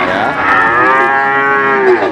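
A single long, loud moo from a cow at a cattle market, close by and clear, with no talking.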